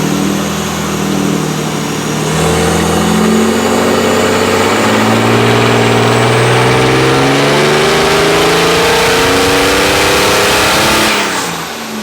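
Boosted turbo diesel Mercedes engine on a dyno: loud, close, sustained rev that climbs steadily in pitch over about ten seconds as the load builds, then drops off abruptly at the end, with no talk.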